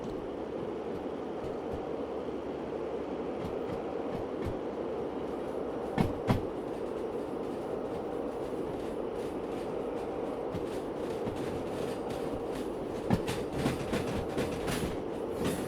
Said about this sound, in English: Out of all the diesel locomotives, I think the DH4 has the best sound design.